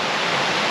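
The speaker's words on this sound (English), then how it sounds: "I can hear the swamp in the background or the waterfall" Cataract Falls waterfall on Mt. Tamalpais, a brief, steady broadband rush of falling water, close and even for under a second.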